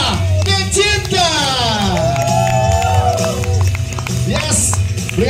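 A crowd at a cast presentation for the Indonesian film Rangga & Cinta cheers and claps loudly, with shouts and whoops rising over a lively, continuous roar while voices call out nearby.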